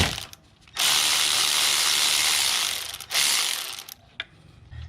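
A ratchet clicks steadily as it turns a 12 mm bolt to slacken the alternator belt on a 2010 Honda Odyssey, a close, loud run of rapid pawl clicks lasting a couple of seconds, then a pause and a shorter burst.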